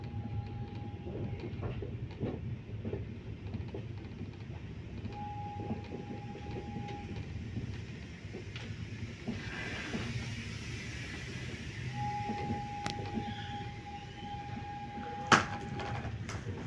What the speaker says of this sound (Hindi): ये है हमारी देहरादून दिल्ली मसूरी एक्सप्रेस।